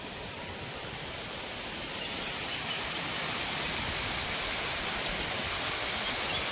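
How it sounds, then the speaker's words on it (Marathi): Steady, dense roar of rushing water from a waterfall in the Mandhardevi ghat near Wai, broad and continuous, growing slightly louder partway through with no voices. "हा आहे धबधबा"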